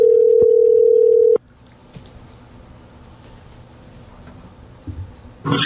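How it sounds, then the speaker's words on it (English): A telephone call on the line gives one loud, steady tone for about a second and a half, then cuts off to a quiet line with faint clicks and a short burst of noise at the end. "Here it comes. I hear it. We're ringing ringing."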